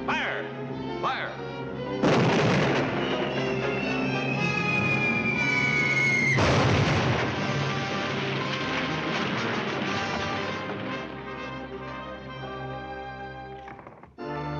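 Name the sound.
cartoon artillery cannons firing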